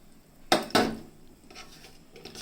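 In a kitchen, onion is cut and dropped into simmering horse gram soup (ulava charu): two sharp clattering knocks from a knife or utensil against a pot, then softer scraping and light clinks.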